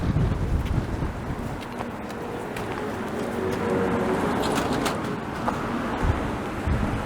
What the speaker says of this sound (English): I am walking directly into a biting wind